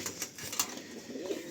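Domestic pigeons coo softly in a loft, a pair kept for flying and tumbling, with low murmuring calls repeating near the microphone and no talk.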